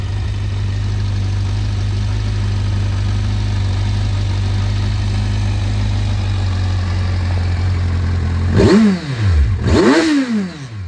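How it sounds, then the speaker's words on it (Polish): A steady, low idle from a 2017 Kawasaki Versys 1000 with aftermarket exhaust and DB killer fitted rumbles evenly, then two quick throttle blips rev up and drop back near the end. "Silniczek naprawdę pracuje tak jak powinien pracować."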